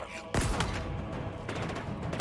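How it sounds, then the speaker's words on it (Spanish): A sudden loud blast followed by rumbling debris and a second burst, a Halo Infinite explosion with heavy low-end impact. "¡Explosión!"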